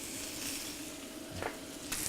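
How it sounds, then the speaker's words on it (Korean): Garlic and onion sizzle in a hot pan as cucumber goes in for a Korean chive stir-fry with balsamic, a steady close frying hiss with a few brief louder crackles, no talk. "여기 칙 소리가 올라오면 어느 정도 달궈진 것 같아요"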